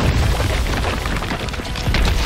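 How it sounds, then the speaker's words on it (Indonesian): Gunfire in the video game Resident Evil 3: loud, dense booming blasts and thuds fill the whole stretch without a break. "Dua kali tembakan, men."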